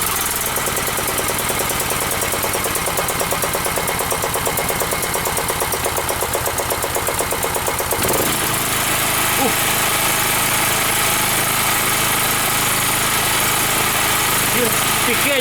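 A Forte FG3500 petrol generator, 2.7 kW, runs loudly and continuously, with a steady rhythmic engine chug that shifts character halfway through as the choke is adjusted.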